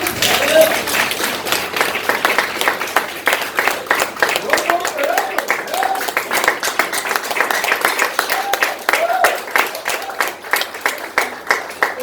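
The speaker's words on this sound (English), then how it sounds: "one big round of applause for all of you" A crowd applauds steadily for the full stretch, dense continuous clapping that stays loud throughout with no voices standing out.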